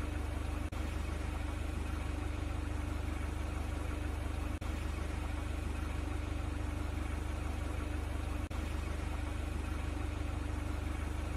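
A forklift engine idles steadily inside a virtual reality training simulator, a constant low rumble with faint periodic clicks and no talk.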